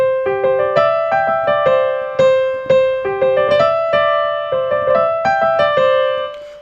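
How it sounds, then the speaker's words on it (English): The Avicii SOS melody played on a synth, bright plucky notes in a short repeating phrase with quick rhythmic hits and a few held tones, loud and close, each note decaying quickly, with no voices. "going to the next song is SOS, and the melody sounds like this."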